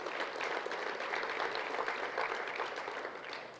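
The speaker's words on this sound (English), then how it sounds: "A round of applause" Steady applause from an audience at an awards ceremony, a dense continuous patter of many hands clapping at moderate volume for several seconds without any voice on top.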